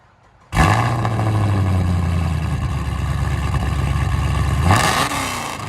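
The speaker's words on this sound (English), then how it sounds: "Now this is how a Camaro is supposed to sound" A Chevrolet Camaro SS's V8 engine fires up with a loud bark, settles into a deep rumbling idle, then revs sharply near the end before easing back down.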